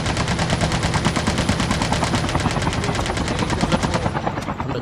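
Rapid bursts of automatic gunfire rattle continuously over the whir of helicopter rotors in a loud, dense Call of Duty Mobile battle royale helicopter fight, with no talking.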